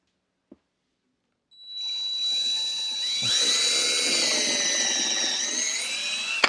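A power drill bores holes for cabinet hardware, a single tap, then the motor whines up and runs loud and continuous as the bit bites in, pitch shifting under load.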